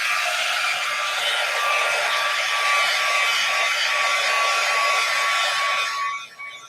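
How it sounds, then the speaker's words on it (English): A heat gun blows hot air over acrylic paint in a steady, loud, close whoosh with a faint high whine, running continuously before cutting off near the end. "I'm gonna hit this with the heat gun"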